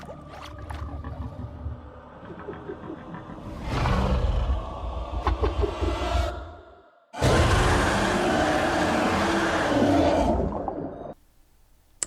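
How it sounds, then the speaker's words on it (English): Deep, monstrous leviathan roar of the Sea Emperor from the Subnautica game trailer: a low rumbling bellow with a long sighing tail, a short pause, then a second loud, sustained roar that fades away, with no talking. "here's an idea of what the Sea Emperor will sound like, and it's pretty freaky,"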